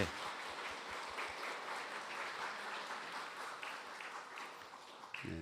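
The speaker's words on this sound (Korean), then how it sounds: "박수 한번 주실래요?" A church congregation applauds at a Sunday service, steady moderate clapping from many hands that continues evenly before tapering near the end.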